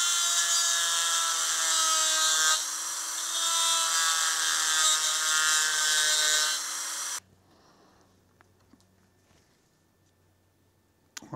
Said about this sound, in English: So let's go to a Dremel tool probably.